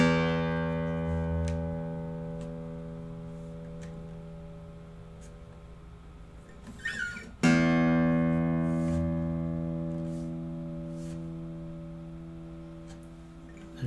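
An experimental stringed instrument with an extended neck rings out with its sound hole covered by a hand, sustained plucked notes decaying slowly, then a sharp new attack midway that fades again.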